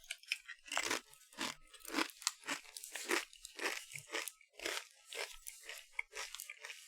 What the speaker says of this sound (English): I grabbed some salty chips that you're going to have to listen to me crunch on a little bit here and there.